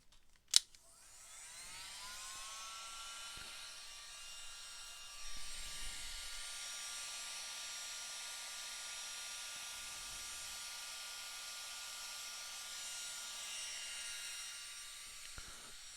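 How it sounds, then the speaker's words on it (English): A blow dryer starts with a click and runs steadily up close, drying watercolor paint on a card: a loud, even whooshing whine with no talking. "I have a blow dryer here."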